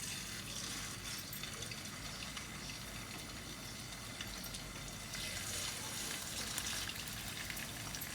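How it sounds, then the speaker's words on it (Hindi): Beef chapli kababs frying in hot oil, one by one, as a continuous faint hiss and sizzle that swells slightly in the second half, with no talking. "यहाँ पर ऑयल गरम हो चुका है। अब मैं इसमें एक एक करके ये कबाब डालती हूँ।"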